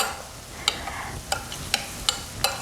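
Spices being stirred into a corn and rice salad make a soft, continuous rustling noise, broken by five sharp utensil taps against the bowl at roughly even intervals, close by with no talking.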